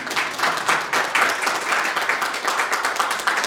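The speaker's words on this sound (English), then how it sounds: "a big round of applause for our volunteers" A church congregation bursts into sustained applause for its volunteers during a Sunday service, dense steady clapping filling the room at close range with no talk over it.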